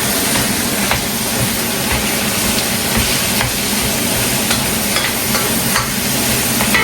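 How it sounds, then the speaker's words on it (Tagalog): Ingredients for pancit being sautéed in a pan, a loud, steady sizzle that runs throughout, broken by faint scraping and stirring taps, with no talking. "Gisa-gisa lang natin."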